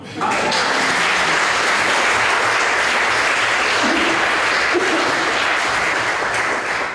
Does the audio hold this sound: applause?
yes